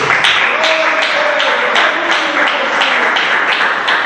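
A church congregation claps along in a steady, rhythmic beat, loud and close, with a voice audible over the clapping.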